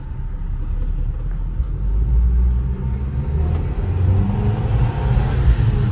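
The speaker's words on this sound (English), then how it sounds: "The turbocharger." A turbocharged car engine rumbles and builds steadily as the vehicle accelerates, a low droning roar from inside the cabin with a faint rising whine of the turbocharger spooling.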